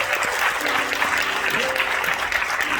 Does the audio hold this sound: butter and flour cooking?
no